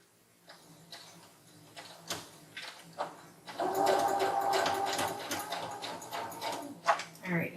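A sewing machine stitching a fabric hair scrunchie: after a few scattered clicks and taps, the machine runs in a fast, continuous whirring patter at close range for several seconds, then slows to a few last ticks.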